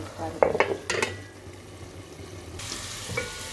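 A spoon stirs amaranth leaves and potato fry in a pan, giving a few sharp metallic clinks and scrapes in the first second, then a soft steady sizzle.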